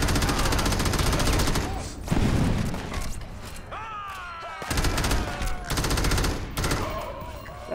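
Heavy automatic gunfire in the Xbox 360 game Crackdown, loud dense bursts that stop abruptly, leaving a lull with whining mechanical tones, then resume in further rattling volleys, with a voice speaking briefly.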